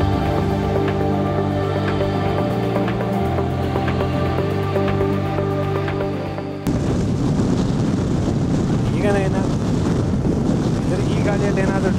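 Strong wind blows at the Devaramane hilltop viewpoint near Charmadi, Mudigere, Chikmagalur, under swirling clouds. A steady tonal layer gives way to a loud, continuous roar of gusts buffeting the microphone up close.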